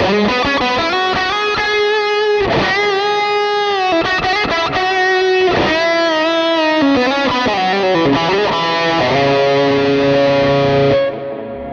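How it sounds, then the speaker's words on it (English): Electric guitar played through a Line 6 HX Stomp Dynamic Hall reverb set large, with long decay, extra pre-delay and a high mix: sustained chords and melodic notes ring out alone, washing into a lush tail before fading at the end. "if I go to the slightly bigger reverb with more decay and a bit more pre-delay and higher mix"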